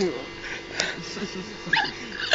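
Small dog whimpering with faint high yips, brief whines mixed under nearby Polish talk.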